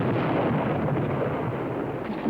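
Continuous heavy battlefield barrage of mortar, hand grenade and gasoline bomb explosions, a loud dense rumbling roar of overlapping blasts with no pauses and no voices.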